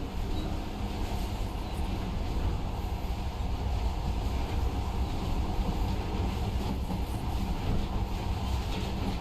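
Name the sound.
monorail train moving in Metro Last Light Redux video game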